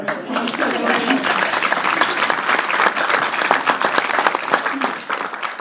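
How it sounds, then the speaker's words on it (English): Audience at a benefit event applauds, a dense, steady wash of clapping from a crowd that fades slightly near the end. "So can we have another round of applause for Lauren?"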